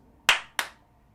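Two sharp hand claps in a quick pair, evenly spaced like eighth notes, close and crisp with short decays, no talking.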